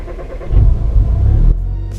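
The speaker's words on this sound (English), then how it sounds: "It takes a pretty damn long time to crank." A VW MK7 Golf R, converted to E85 fuel with a suspected faulty high-pressure pump, cranks slowly with a loud, low, uneven starter churn for about a second before it cuts off abruptly.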